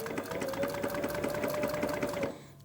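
An industrial sewing machine stitches leather in a fast, close, rhythmic run of needle strokes with a steady whine, stopping abruptly near the end.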